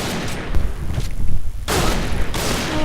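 Gunfire and a grenade blast in the Point Blank shooter game, with loud bursts of shots and booming impacts in quick succession, dense and close.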